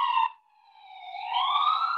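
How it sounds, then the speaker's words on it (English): Wailing emergency siren from a passing ambulance, a clear up-and-down tone that dips briefly then rises and swells louder as the vehicle approaches, heard alone without talk. "the sirens go by here"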